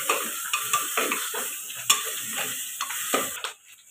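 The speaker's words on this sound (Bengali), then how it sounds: "আর একটু অল্প করে নাড়বো" Koi fish curry with coriander and panch phoron stirred in a pan, a series of rhythmic scraping strokes over a light sizzle, close and unaccompanied by talk, ending abruptly into near silence.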